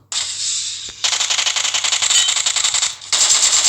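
Loud bursts of automatic gunfire from the video game PUBG Mobile, with three sustained rapid-fire volleys separated by brief pauses, close and dominant without any talk.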